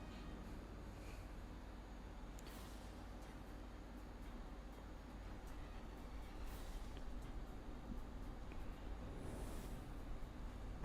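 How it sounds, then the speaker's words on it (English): Steady traffic noise of cars passing outside, a continuous low rumble with a few louder swells as vehicles go by, faint and distant behind a closed room. "the cars outside are very loud"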